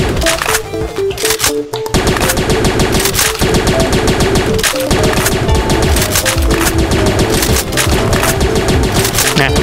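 Rapid automatic gunfire in the Plants vs Zombies game, a dense rattling stream of shots that runs almost nonstop at high volume, with a short break near the start.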